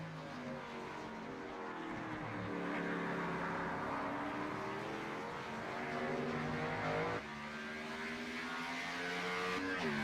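Race car engine in iRacing on the Charlotte Roval, a steady high-revving drone with rising and falling pitch as the car is pushed hard through shifts, loud and continuous with no voices.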